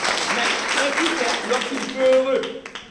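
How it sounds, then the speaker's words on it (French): Pupils in a Guinean school classroom applaud a classmate after a chemistry answer, a loose burst of clapping with voices and chatter mixed in, swelling briefly near the end. "applaudissez pour elle"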